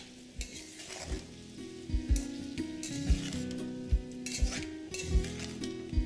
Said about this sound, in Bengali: এবার এখানে আমি মিশিয়ে দিচ্ছি টমেটো আর কাঁচা লঙ্কাটা